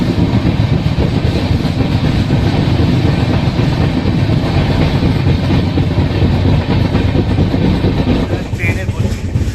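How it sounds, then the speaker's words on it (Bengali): The 12857 Tamralipta Express AC train, running from Howrah to Digha, pulls out after its stop at Uluberia station. A loud, steady rumble and rhythmic wheel clatter continue throughout, with voices in the background. "এখনই আবার ট্রেন ছেড়ে দেবে"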